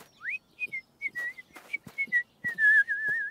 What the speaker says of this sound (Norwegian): Det er tre lager noen interessante plystrelyder med jusboksene